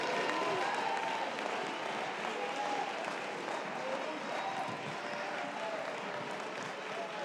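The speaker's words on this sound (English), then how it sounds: "take 20 seconds, clap those hands, and shout unto God with the voice of triumph." A church congregation claps and shouts together during a sermon, a dense, sustained roar of many hands and raised voices that holds steady throughout, with scattered shouts blending into the crowd noise.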